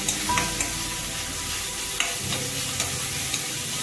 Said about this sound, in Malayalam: ക്യാരറ്റ് നെയ്യിലിട്ട് നന്നായിട്ടൊന്ന് വഴറ്റിയതിനു ശേഷം കോരി മാറ്റി വയ്ക്കാം.